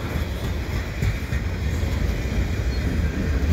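A CN freight train rolls through Dorval in a blizzard, a steady, dense low rumble with a faint hiss on top, continuous and fairly loud throughout with no voices.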